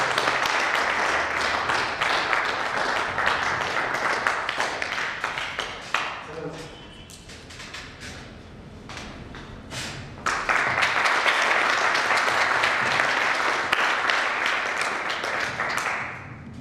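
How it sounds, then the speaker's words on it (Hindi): Audience applause at a company first-anniversary stage event, sustained and fairly loud, dipping in the middle under a voice before swelling again into dense clapping. "तो तालियां बजा दो यार"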